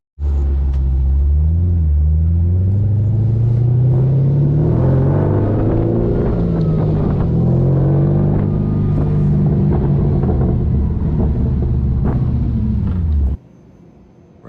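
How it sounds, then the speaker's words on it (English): A 1962 Corvette custom roadster with an LS3 V8 and six-speed gearbox runs steadily, a loud, deep engine rumble with rising and falling revs that holds for about thirteen seconds before cutting off abruptly. "it runs really well with that LS3 and that 6-speed"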